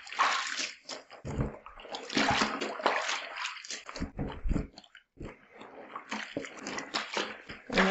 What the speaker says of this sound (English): So we're going to add fresh water. And this is also hot water.